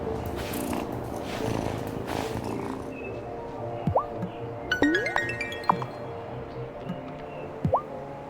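A cat in the video game Wylde Flowers: a soft, low purring rumble under scattered squishy, plopping effects and short rising chirps.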